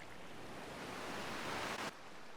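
A vast, powerful ocean in a video game gives off a steady broad wash of surf, loud and close, swelling gently before a brief drop near the end, with no voices.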